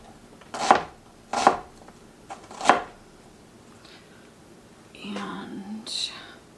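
A strong onion chopped on a board, three sharp knife strikes spaced under a second apart, followed by softer shuffling and a brief quiet voice near the end.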